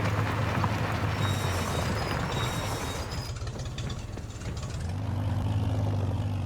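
A tractor pulling a disc harrow through the ground in the Farming Simulator video game, a low rumbling engine drone with grinding, churning texture that dips briefly and then returns to full strength, with no voices.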